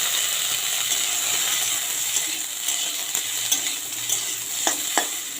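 Sliced potatoes sizzle steadily in hot oil with dried chilli and nigella seeds, a dense close frying hiss broken by occasional clicks and scrapes of stirring.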